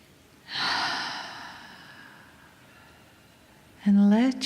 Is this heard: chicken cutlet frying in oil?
no